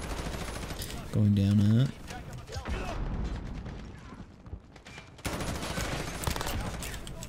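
Rapid automatic gunfire bursts crackle through a Call of Duty: Modern Warfare multiplayer match, with a loud burst near the start and steady distant shooting throughout, while players talk over it.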